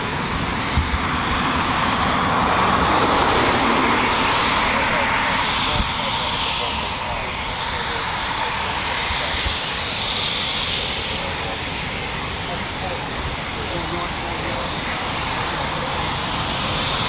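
A Eurofighter Typhoon FGR4 jet at an RAF station roars loudly and continuously, a dense broadband thrust noise that slowly eases over the span, with a voice faintly under it.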